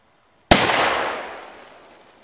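A single hunting rifle shot fired outdoors while guns are sighted in: one sharp, loud crack followed by a long, fading rumble, with no talking.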